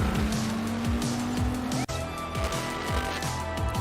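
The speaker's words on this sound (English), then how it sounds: "Yo, that's a cyberpunk car." In a trailer for an Assassin's Creed video game, a car engine revs in rising gear sweeps while tires squeal through a skid, a loud and close stretch of racing-style driving.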